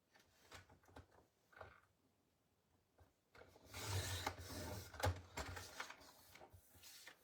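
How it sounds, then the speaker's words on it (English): A 2-inch paper strip is cut off by hand, giving a few short, faint snipping and crinkling sounds followed by a louder rustling cut near the middle, close and quiet with no talk. "Cut off the 2-inch strip."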